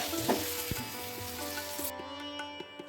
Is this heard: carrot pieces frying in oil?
yes